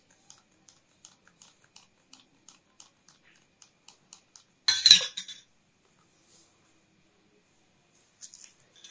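A metal spoon clinks softly against a container again and again in a steady rhythm as a spoonful of Lifebuoy hand wash is added, then comes a brief louder clatter and a few faint taps.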